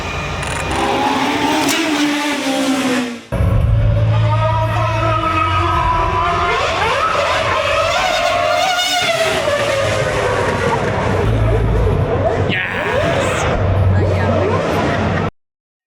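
A McLaren V12 race car engine, the kind run in IMSA WeatherTech and World Endurance Championship racing, roars loudly and continuously with rising and falling revs. There is a brief cut near the start, and a voice talks over it.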